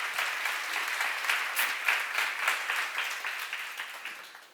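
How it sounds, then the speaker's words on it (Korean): A church seminar audience applauding steadily, dense clapping that slowly fades toward the end, with no voices on top. "박수 한번 쳐봐요"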